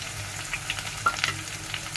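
Green chilies and onion frying in hot oil for a dal tadka, a steady close sizzle with light scraping stirs, no voices.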